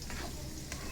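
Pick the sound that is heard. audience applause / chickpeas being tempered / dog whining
chickpeas being tempered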